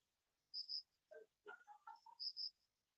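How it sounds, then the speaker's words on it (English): Faint insects chirp at night in short, high, separate bursts, with a few lower croaks mixed in against near silence. "We have the sounds of crickets and many other insects"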